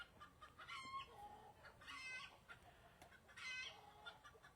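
A hen squawks and clucks in agitated bursts near a nesting box after being disturbed by a turkey, with three or four loud, harsh calls over quiet background noise.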